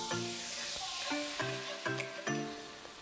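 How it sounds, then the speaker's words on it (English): Sliced onions sautéing in melted butter in a skillet over medium heat, a continuous soft sizzle running beneath a few clear sustained tonal notes. "Once melted, add 1 cup sliced onions and sauté until softened"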